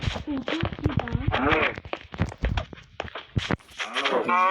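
A cartoonish cow moos a few times amid zombie apocalypse game sound effects and clicks, with a person talking over it.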